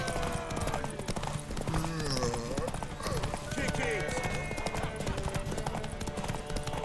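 A horse's hooves clip-clop steadily through a race in The Witcher 3: Wild Hunt, running continuously under background music and a voice speaking throughout.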